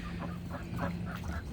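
Ducks beside a pool quack in a quick series of nasal calls, about five or six bursts in a second and a half, close by with a low background rumble.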